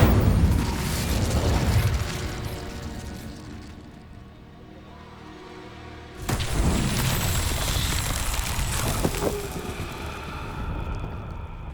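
Incendio fire spell cast in Hogwarts Legacy on PS5: a loud whooshing burst of flame that surges sharply midway and keeps roaring over a low rumbling game background.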